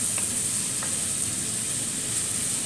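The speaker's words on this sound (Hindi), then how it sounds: "इसे फ्राई करते हुए मुझे 4 मिनट हो चुके हैं" Chicken pieces frying in hot oil for shahi chicken korma, a steady broadband sizzle with a couple of faint stirring ticks, even and continuous throughout, with no voices.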